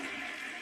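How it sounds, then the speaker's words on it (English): A toilet flushing with a loud, continuous rush of water, close by and alone, lasting under a second. "it's very loud because I'm flushing the toilet"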